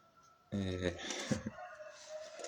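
A rooster crows once at close range, a loud drawn-out harmonic call, followed by softer clucking and background noise.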